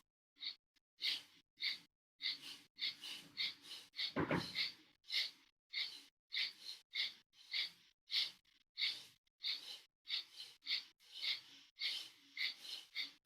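Short, rhythmic breaths during a yoga exercise repeat steadily as close, breathy puffs with brief pauses between them, one heavier gasp in the middle and no talking.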